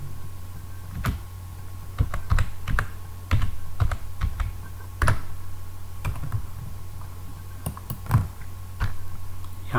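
A chart title is typed on a computer keyboard, giving close, crisp key clicks in uneven bursts over a faint steady hum, with no talking.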